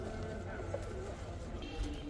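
Soft, low coos from pigeons for sale murmur faintly under a noisy background, with a brief chirp or two.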